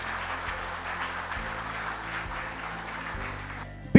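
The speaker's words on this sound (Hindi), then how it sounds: "एक बार जोरदार तालियां हो जाए आप सभी लोगों के लिए।" Audience applause at a business presentation, a moderate steady patter of clapping under a low droning background hum, ending in a sudden loud bump.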